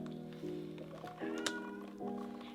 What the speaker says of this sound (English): If you guys hear my cat in the background